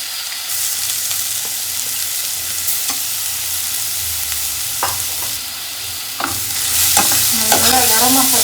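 Carrots with green chillies sizzle in a hot frying pan, a steady crackle broken by scraping stirs, fairly close and with no talking.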